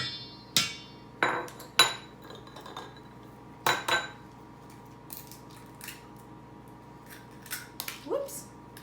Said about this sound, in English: I like to crack them on the side into another bowl